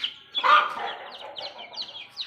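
Small chicks being herded inside a shed give a string of thin, high chirps, one louder burst followed by quicker, fainter peeps nearby.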